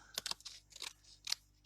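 Scissors trim excess paper from a handmade swirl card in a few short, quiet snips spaced apart, alone in a near-silent room.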